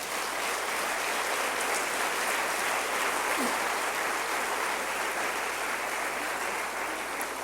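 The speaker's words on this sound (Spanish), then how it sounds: "Eso merece un aplauso para Dios." A church congregation applauding during a sermon, a steady, continuous roar of many hands clapping, moderately loud over a low background hum.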